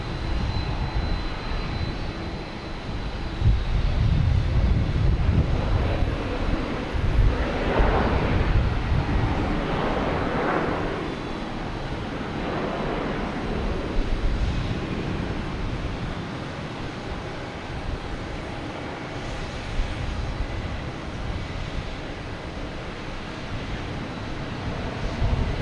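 A WestJet airliner takes off at Boston Logan Airport, its jet engines a loud, sustained roar that swells and slowly shifts as it climbs away, with no talk over it.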